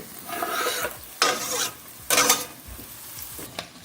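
Finely minced ingredient stirred into onion frying in a pan for lemon risotto, with repeated close scraping strokes of a spoon over a continuous soft sizzle.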